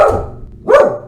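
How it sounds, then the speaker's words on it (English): A dog gives two short barks about half a second apart, close and loud, the second bark stronger, with no voices. "I don't know what she's barking at"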